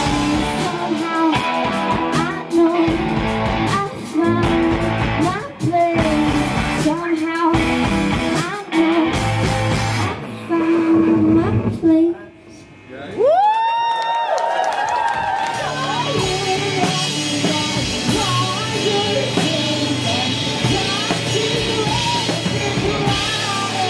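A crowd at a live show claps and cheers for the band, a loud dense roar of hands and whoops over ongoing music, with shouts rising above the applause.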